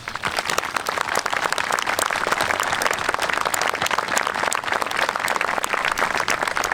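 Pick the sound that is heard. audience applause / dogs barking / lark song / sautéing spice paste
audience applause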